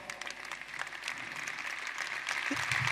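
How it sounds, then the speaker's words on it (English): An audience applauds during a talk on surviving a recession and building wealth, steady moderate clapping that swells slightly toward the end. "let's stop clapping so I can finish this one"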